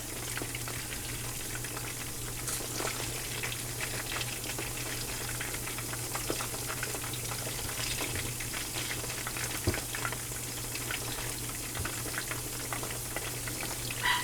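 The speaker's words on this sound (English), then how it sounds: "I'm just going to fry these up until they're golden brown." Steady, close sizzling of fish frying in hot oil, with crackles and pops, continuous and even throughout with no talking.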